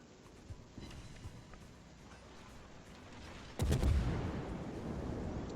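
Cruiser naval gunfire in World of Warships, a heavy booming salvo that erupts suddenly over a low ambient rumble and lingers as a loud rolling roar.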